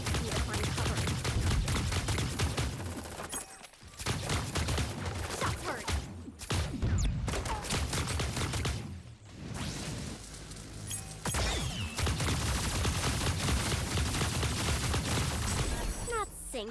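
Dense bursts of gunfire from the battle royale game Super Mecha Champions, loud and nearly continuous with brief gaps, mixed with crashes and impacts under game voices and music.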